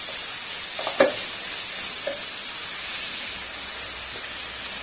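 Onions fry in a pan with a little salt for a bottle gourd curry, giving a continuous sizzle with a short clink and stirring scrape near the start.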